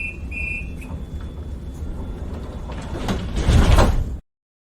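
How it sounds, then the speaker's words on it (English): Tram with sliding doors: a tonal chime-like beep near the start, then a steady mechanical rumble and a broadband whoosh of the doors sliding, loudest near the end before cutting off. "Tram."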